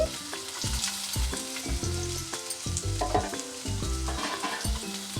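Thinly sliced medium onions frying in a pan for aloo bread bajji, a steady close sizzle with stirring scrapes, no one talking over it.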